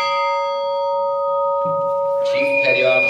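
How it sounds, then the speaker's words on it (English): A ship's bell is rung at a Navy retirement ceremony, one strike ringing out long and clear, then a second strike near the end over murmuring voices in the hall. "Bell ringer, ring 2 bells"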